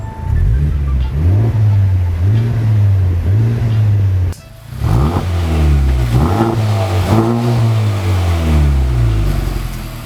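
A Honda Civic Type R engine warming up, idling and revving through its stock exhaust, rising and falling in repeated surges, loud and close, with a brief dip in the middle.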